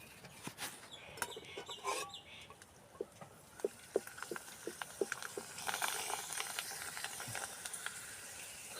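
Papad fries in very hot oil in a village kitchen, a busy crackling sizzle with quick popping bursts, while a rooster and clucking hens are heard in the background.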